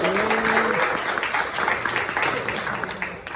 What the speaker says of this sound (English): Give Sil a round of applause, please.